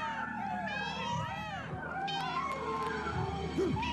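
A cartoon cat in an animated mystery series lets out several drawn-out, wavering meows and yowls, fairly close, over a low background bed of music and voices.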